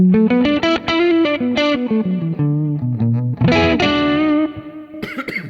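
A thick, overdriven electric guitar through a Kemper amp plays a sequence of notes with a heavily distorted, saturated tone, loud and continuous, ending with a brighter strummed burst.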